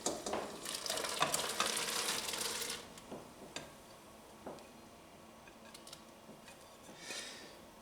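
Celery pieces go into a pot of boiling water for blanching before freezing, giving a loud burst of splashing and bubbling sizzle for about three seconds that then settles into quieter bubbling with a few soft taps.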